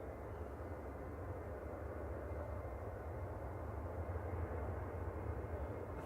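A Gulf Air airliner in retro livery arrives at Manchester Airport, a faint, steady jet roar held evenly throughout with no talk over it.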